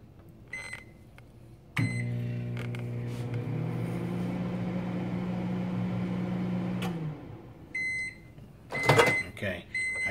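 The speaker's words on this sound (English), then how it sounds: "put on the microwave for like a couple seconds" Microwave oven running for about five seconds, a steady close hum that starts with a click and stops abruptly, followed by beeps and the clatter of the door opening.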